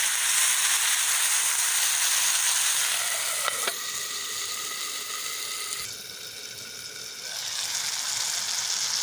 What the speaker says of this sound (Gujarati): ટમેટા 1 વાટકી ઉમેરીશું જે મોટા કાપીને લઈ લીધા છે। ટમેટા નાખીને આપણે 2 મિનિટ સુધી ચડવા દઈશું।